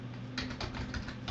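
Keys tapped on a computer keyboard while a password is entered on a structural monitoring system's settings page, a quick run of close, light clicks with short gaps between them.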